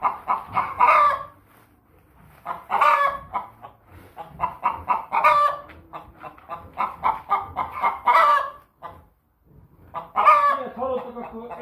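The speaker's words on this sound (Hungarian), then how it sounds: "Minek a hangja? A csirkék." Chickens cluck and crow in repeated close bursts, several fowl calling over one another with brief quiet gaps between the loud clusters, no talking.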